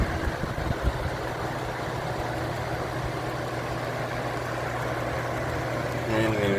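A 1998 Holmes slim-line HABF-20 fan runs with a steady, even whooshing hum and a faint rattle from its flimsy cabinet, with someone talking over it.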